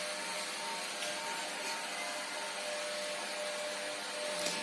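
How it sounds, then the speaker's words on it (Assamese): Carpentry work going on in a house leaves a steady whining machine drone in the background, constant and moderately loud, with no talk over it. "মিস্ত্ৰী কাম কৰি আছে ঘৰৰ সেইকাৰণে বেকগ্ৰাউণ্ডত আৱাজ আহি আছে"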